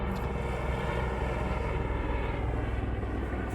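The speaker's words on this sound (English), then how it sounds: "Fucking helicopter." A helicopter drones overhead outdoors as a steady, continuous low rumble with a broad hiss, holding level throughout with no talk.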